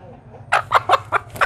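A hen held in someone's hands gives a quick series of five or so sharp, close clucks in a steady rhythm, loud against a quiet background.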